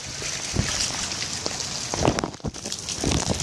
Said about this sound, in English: We had some good rain, though.